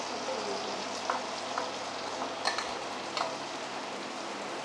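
Onions sizzling in oil for a gupchup pizza filling, a steady bright frying hiss with a few light taps of a spoon, fairly faint and even throughout with no talk.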